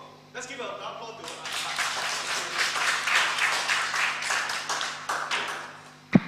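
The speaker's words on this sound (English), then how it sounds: "Let's give a round of applause" A roomful of people claps for an award presentation at a stock-trading contest, the applause swelling to a steady peak and then tapering, with a sharp tap near the end.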